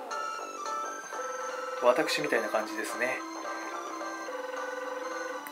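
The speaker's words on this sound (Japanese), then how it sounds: "あれ、電話ですか？" A telephone rings in the Marmalade Boy dating simulation game as a steady electronic melodic tone, heard under a person talking.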